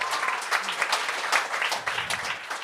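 Audience applause at a Quebec comedy gong show, a dense burst of clapping that runs steadily for a few seconds, fairly close and moderately loud.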